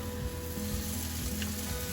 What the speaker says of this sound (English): Can you hear that? Sizzling with excitement.